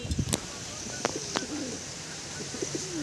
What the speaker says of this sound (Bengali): এটা হচ্ছে মাদি পায়রা আর হচ্ছে নর পায়রাটা